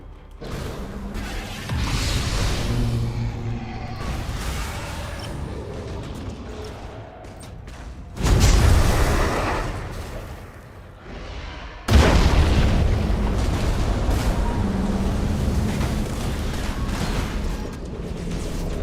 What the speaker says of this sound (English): They use torpedoes on their own ship.